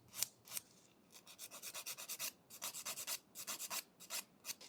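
A 100-grit nail file rasps back and forth over an artificial nail extension tip in quick, rhythmic strokes, close and crisp, with several strokes in a row and short pauses between runs.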